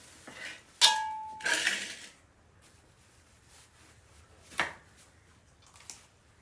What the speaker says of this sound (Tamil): ஆசையமாக இறைச்சி வெட்டுறா